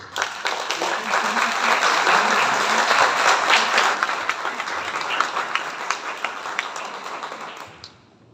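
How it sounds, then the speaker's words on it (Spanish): Audience applause at a civic organizations' gathering: a full room clapping strongly for several seconds, then thinning into scattered claps before stopping. "les pido un aplauso, por favor"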